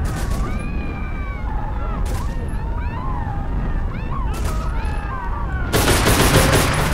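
Gunfire in the stealth shooter Velvet Assassin: sharp broadband shots at about three points, ending in a dense sustained volley, over a constant rumbling game backdrop with tonal whistling layers.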